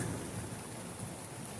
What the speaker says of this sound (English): no live stream until the thunderstorm passes